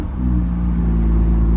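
A 2017 BMW M2 engine runs close by with a deep, steady rumble and no voices, its low drone holding even from start to finish.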